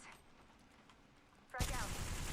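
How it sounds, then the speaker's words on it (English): Gunfire in Apex Legends shows as a low, busy game background that suddenly breaks into a loud, sustained burst of rapid shots partway through, with a voice heard during the clip. "They spotted me. Taking shots."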